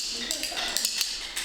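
Rhythm bones played with a backward double click, sharp paired clacks repeating in quick bursts at close range over a faint room hiss, at a workshop.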